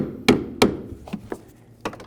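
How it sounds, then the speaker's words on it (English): A hammer strikes the lower intermediate steering shaft of a 2007–2017 Ford Expedition to break it free, giving two loud, close metallic bonks followed by several lighter knocks, with no talking. "let's go ahead and use a hammer and just kind of give this a couple loving bonks and hopefully break it free"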